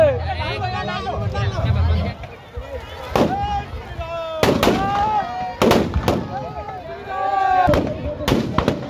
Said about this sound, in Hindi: श्री राम द्वारा आकर्षक आतिशबाजी के बीच रावण दहन किया गया